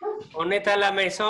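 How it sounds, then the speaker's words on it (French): A dog barks and whimpers at home, its short yips mixed in beneath continuous close-up French conversation between men. "mon chien, il jappe."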